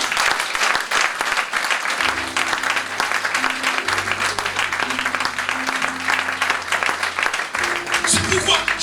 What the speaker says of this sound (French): Est-ce que quelqu'un peut donner une acclamation au Seigneur?